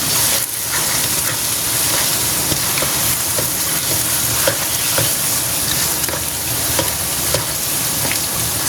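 Gongura mushroom pickle stirred in a pan, a steady sizzling hiss with soft scraping strokes of a spoon recurring every second or so, close and continuous with no talking.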